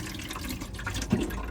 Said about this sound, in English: It just drains out through the corners there.